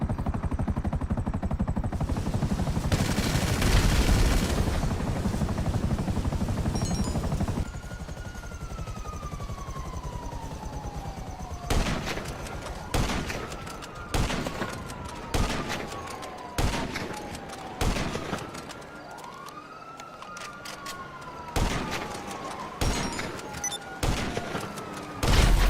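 Helicopter rotor noise and repeated bursts of gunfire in GTA 5 Online, with sharp volleys of shots landing in irregular clusters over a steady background whir.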